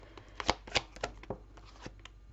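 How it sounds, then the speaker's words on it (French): Oracle cards being shuffled and drawn by hand, a soft papery riffle with a series of sharper flicks and slaps as cards are pulled and laid down, close and quiet. "Je vais d'abord tirer toutes les cartes du grand oracle."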